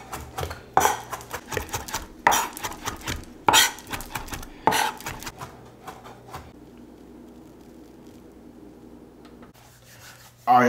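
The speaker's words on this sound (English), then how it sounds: "I chop it up real quick and add it to the potatoes." Fresh thyme, rosemary and parsley being chopped with a knife on a cutting board, a quick series of sharp, close knife strikes that tapers into softer scraping and quiet handling, with one loud thud at the end.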